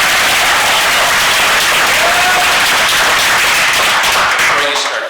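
A forum audience on gun violence bursts into loud, dense clapping that fills the room continuously, fading slightly at the very end as a voice begins to cut in.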